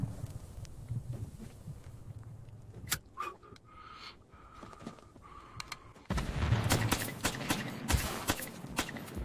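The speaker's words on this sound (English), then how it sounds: "we have bombs exploding, gunfire, and bullets that are flying everywhere in the scene" AI-generated battle scene with bombs exploding, gunfire and bullets flying, produced by Kling: sharp bursts and cracks scattered through the clip, growing into a loud, dense barrage of shots and blasts over the last few seconds.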